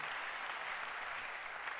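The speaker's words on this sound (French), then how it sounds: "Acclamez le Seigneur." A church congregation applauds the Lord with a continuous, even wash of many hands clapping, heard at a moderate distance and fairly faint, with no one speaking over it.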